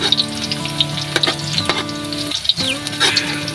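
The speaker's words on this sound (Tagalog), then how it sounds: "mainit na po yung mantika. Ilulunod na po natin yung sibuyas at saka ahos." Onion and garlic sauté in hot cooking oil in a rural home kitchen, giving a loud, steady sizzle and crackle with a few sharp pops and utensil clicks throughout.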